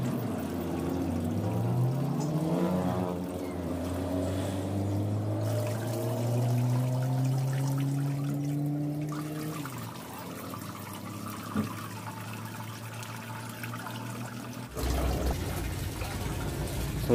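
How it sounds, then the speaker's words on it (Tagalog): Water pours steadily into a reservoir at a greenhouse, with a gurgling pitch that rises as the vessel fills, then fades out before a brief louder splash near the end. "ang pagdagdag ko ng tubig sa aking reservoir"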